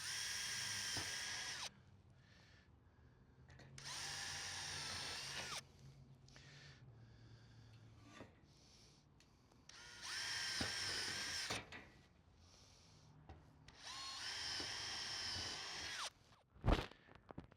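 Power drill pre-drilling holes in metal inside corner trim for board and batten siding, four bursts of high whining drilling of a second or two each, separated by quieter pauses, with a sharp clunk near the end.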